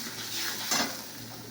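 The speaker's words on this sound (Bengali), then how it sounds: "সরষে বাটা যেটা বান্না ছিল সেটাকে আমি দিয়ে দিলাম" Mustard paste drops into a hot pan and sizzles, a short crackling hiss with a brief scrape of the utensil against the pan, close and fairly quiet.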